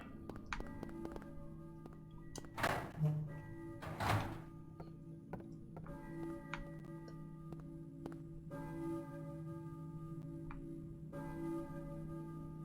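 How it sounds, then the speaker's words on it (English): A church bell in the video game Silent Hill tolls faintly in the distance, a few spaced strikes over a low steady hum and occasional soft thumps. "I hear a church bell, maybe? Who is ringing the bell?"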